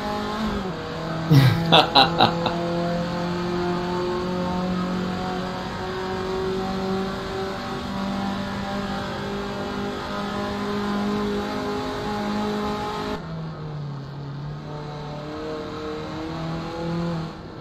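Formula Ford race car engine in a racing game at Spa-style Sandevoerde, droning steadily at sustained revs with a brief burst of sharp clicks early on, then dropping in pitch near the end as the engine eases off.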